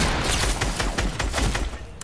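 Rapid assault rifle fire in the video game Fortnite, a dense, continuous burst of loud close shots rattling without pause for about two seconds.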